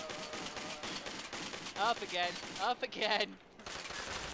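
Gunfire in the video game Army of Two rattles in rapid bursts beneath excited player voices and game dialogue, moderately loud and mixed with other combat effects.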